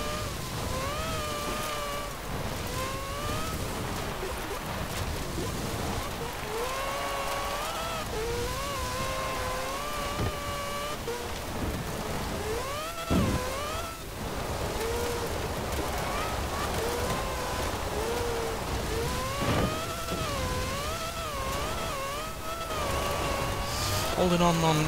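A 1973 Mazda RX-3 engine in Forza Horizon 4 revs up and down through repeated gear changes, a rising and falling whine that runs steadily for about twenty-five seconds beneath someone talking.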